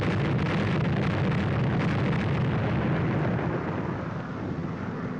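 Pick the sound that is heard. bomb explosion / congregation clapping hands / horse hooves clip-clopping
bomb explosion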